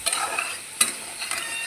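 Green chillies sizzle in a pan with a steady close frying hiss and a couple of sharp scrapes or stirs, brief and without talking.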